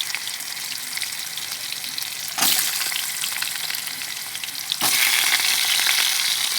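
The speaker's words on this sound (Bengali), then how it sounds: "দিয়ে এখন ভালো করে আমি একটু ভেজে নেবো আলুটা ফোড়নের সাথে একসাথে" Boiled potatoes frying with whole-spice tempering for a vegetarian ridge gourd curry, a steady loud sizzle throughout that swells sharply twice as more potato hits the hot pan, with no voices.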